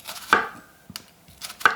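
A thin, highly polished Shibui Damascus gyuto kitchen knife with a convex grind cuts food on a board, giving three sharp, close chops spaced apart with quiet gaps between them.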